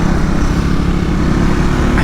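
A Triumph motorcycle ridden over rough, bumpy road, its engine droning steadily and loudly throughout with low rumble and wind noise, no voices.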